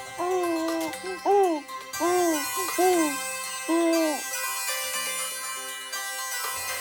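A bright electronic ringtone melody plays a few short rising-and-falling notes, then sustained tones ring on steadily.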